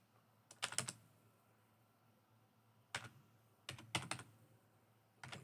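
Calculator buttons being pressed during a chemistry calculation, heard as quiet clusters of quick, close tapping clicks separated by short pauses.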